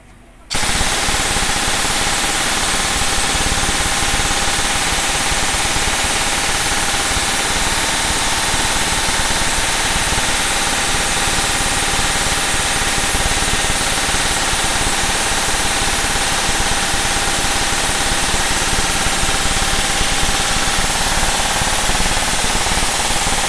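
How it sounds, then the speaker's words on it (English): An airsoft gun with a new motor and MOSFET, a M175 spring and a 14.8 V battery fires full-auto in one loud, unbroken buzzing burst lasting over twenty seconds. "let's try to fire up this new motor to see what the new MOSFET is totally capable of"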